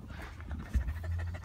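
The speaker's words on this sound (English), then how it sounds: "The noise you hear him panting away is Max in the back." A dog in the back of a vehicle pants steadily for a second and a half, fairly quiet with a faint background hum and no talking.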